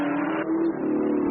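A 1982 touring race car engine revs hard at Bathurst as the car skims the wall, a loud sustained high-pitched roar with a shift in pitch partway through.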